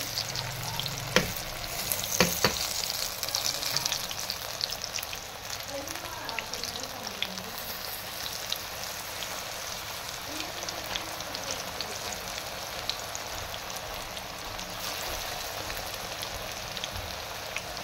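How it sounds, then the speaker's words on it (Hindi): Palak pakoras fry in hot oil, giving a steady crackling sizzle close by, with a couple of sharper splashes and taps near the start. "तेल हमारा फुल गर्म हो गया फिर पकौड़े रखने"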